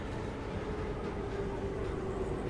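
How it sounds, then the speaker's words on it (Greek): A metro train in the video game SOMA rides along with a steady, low rumble and a faint sustained whine, an even and continuous rolling noise with no speech. "Oh, μέσα στο μετρό."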